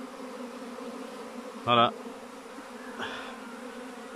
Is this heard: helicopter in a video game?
no